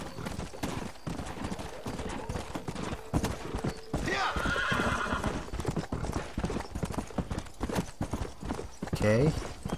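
Horse hooves clip-clopping at a gallop in the Western video game Red Dead Redemption, a steady rapid rhythm close by, with a whinny and a few distant gunshots, and someone talking over it.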